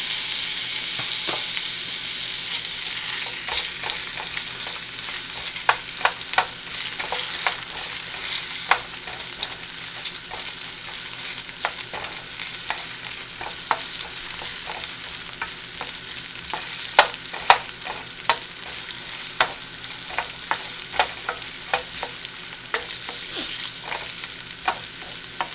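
Onion sautéing in a hot pan as the first step of kilawing papaya, a continuous close sizzle broken by frequent scraping and clicking stirs, with no talking.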